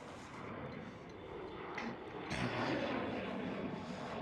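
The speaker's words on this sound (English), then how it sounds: "We have a Turkish Airlines A330 as well, taxiing towards the runway" A Turkish Airlines Airbus A330 taxis toward the runway at Amsterdam Schiphol with a steady, distant, faint jet engine whine and rumble that swells a little partway through.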